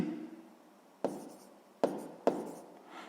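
A pen or pencil writes a math exercise on paper, with three quick, close scratching strokes after a quieter stretch, each starting sharply and then fading.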